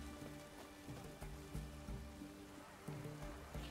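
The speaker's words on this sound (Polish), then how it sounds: "Jak pada, to musi być mokro." Steady rain patters and splashes across surfaces in the city in The Witcher 3: Wild Hunt, with a low rhythmic tonal hum of game music running underneath; no voices.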